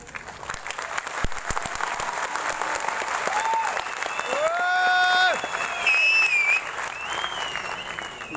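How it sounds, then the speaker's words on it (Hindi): A large audience applauds steadily at a corporate event, a dense wash of clapping throughout, with whistles and cheers rising over it partway through. "इस पॉइंट पे आपकी सबसे ज्यादा तालियां चाहिए।"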